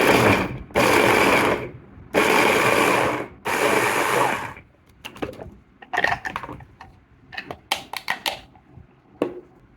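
A Fumato chopper blender on minimum speed runs in three loud, close bursts of whirring, each about a second and a half, followed by scattered clicks and knocks as the lid and bowl are handled.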